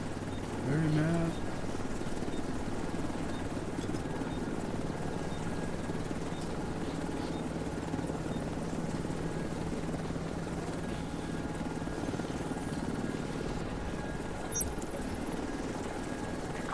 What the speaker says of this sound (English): Helo is returning to base.